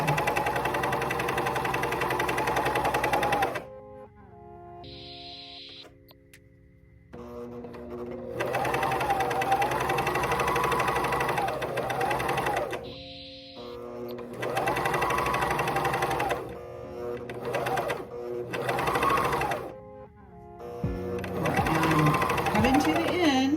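Juki MCS 1500 coverstitch sewing machine stitching fabric in loud, fast mechanical runs, broken by short pauses and quieter stops between bursts.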